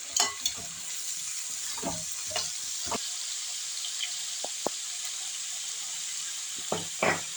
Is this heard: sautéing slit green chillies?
yes